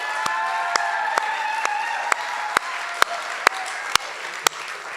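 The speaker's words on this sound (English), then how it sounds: "So can we have one more round of applause for Lindsay Shear and Melanie Morales?" A live audience claps and cheers at a startup pitch event, dense applause with sharp individual claps standing out near and steady for the whole stretch.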